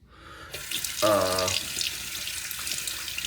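Cold water runs from a tap in a bathroom during shaving, a steady close rush of flow with a brief voice-like tone partway through.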